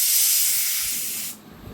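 A pressure cooker holding mutton with ghee and garam masala blows a loud, close jet of steam that hisses strongly and then cuts off sharply, leaving a quieter low rumble.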